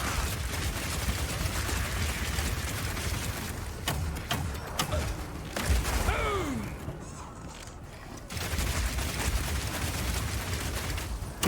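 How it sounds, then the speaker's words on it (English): Crossbow grenade volleys and a power shot set off in Path of Exile, a dense roar of blasts and crackling explosions with rising whistles mid-way, loud and continuous from start to finish. "shoot out a bunch of grenades, and then start the fireworks with a power shot"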